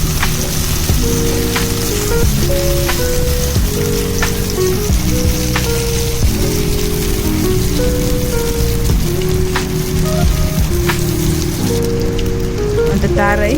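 Onion and curry leaves fry in oil in a pan, giving a loud, dense, continuous crackling sizzle close up, with faint music running underneath throughout.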